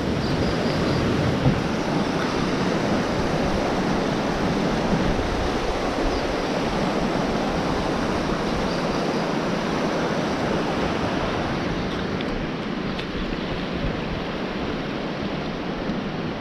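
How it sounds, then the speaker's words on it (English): Rushing river rapids at Bells Rapids, a steady broadband roar of flowing water with no pauses, loud and close throughout with no voices. "As you can hear the rapids, they move all the way along here, just out of shot, and just around the corner."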